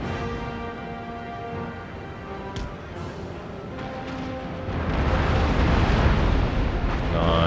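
Broadside cannon fire from sailing warships in the naval battles of Empire: Total War, heavy booming blasts and a rolling roar that swells louder toward the end over a sustained musical bed.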